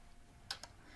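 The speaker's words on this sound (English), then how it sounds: "you can hear how I'm clicking every time" Two quick, faint mouse clicks about a tenth of a second apart, made while placing grass objects in a Game Maker level, over quiet room noise.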